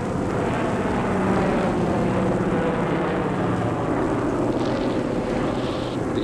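Wartime military aircraft and warships escorting ore transports in the Arctic, a loud steady drone of engines and rumble that carries on without pause and with no voices.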